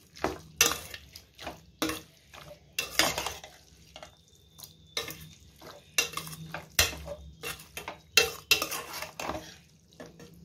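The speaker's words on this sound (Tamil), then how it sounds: "இந்த காரம் வந்து இந்த சிக்கனில் நல்லா கொஞ்ச நேரம் வதங்கணும்." A spatula scrapes and knocks rhythmically against a pan as chicken with chili powder is sautéed for kurma, repeated close clattering strokes over a faint background sizzle.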